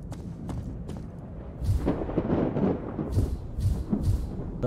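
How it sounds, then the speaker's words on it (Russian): Thunder rumbling through a stormy scene in the video game Collapse, low heavy booms swelling and rolling over several seconds with a few sharper cracks, fairly loud and steady, no voices. "Громы, молния."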